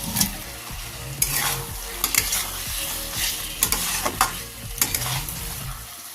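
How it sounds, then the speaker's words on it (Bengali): Fried potatoes tossed into masala in a pan are stirred vigorously, a spatula scraping in uneven rhythmic strokes over a steady close sizzle, with no talking. "আবারও ভালো করে নাড়াচাড়া করে নেব আলুটা।"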